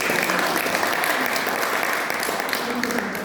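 Church congregation cheering and applauding during a sermon, a loud continuous wash of clapping with mixed voices and shouts filling the room.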